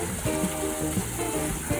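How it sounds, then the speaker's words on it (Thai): A waterfall rushes in a continuous, even hiss at a coffee shop in a durian garden in Kantharalak, with faint tonal sounds and light knocks in the background. "นั่งดื่มกาแฟแล้วก็ฟังเสียงน้ำตกนะคะ"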